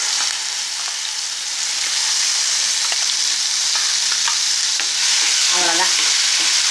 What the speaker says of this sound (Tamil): அடுத்து சட்னியை ஊற்றுவோம்.